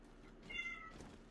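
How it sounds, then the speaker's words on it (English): A female cat in heat lets out a loud, drawn-out meow, a single yowling cry that rises and wavers for about half a second, with faint room noise before and after. "It's a fucking loud cat. No, as I said, I think she's in heat."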